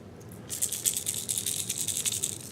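A Strike King Red Eye Shad lipless crankbait fishing lure is shaken close by, its internal beads giving a bright, quick rattling chatter in rapid pulses for about two seconds.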